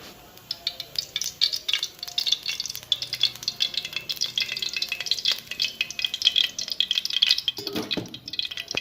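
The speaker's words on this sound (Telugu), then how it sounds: "ఆయిల్ వేడెక్కాక ఎర్రగడ్డ తెల్లగడ్డ వేసేద్దాం" Roughly crushed large onion and garlic fry in hot oil, a bright continuous sizzle with rhythmic stirring scrapes and rattles close by, no voices.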